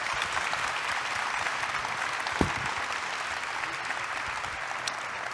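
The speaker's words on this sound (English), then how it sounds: "how about a round of applause for all of them?" A crowd at the Detroit Lions kickoff meeting applauds the team's players on stage, dense continuous clapping heard from some distance, even and fairly soft throughout.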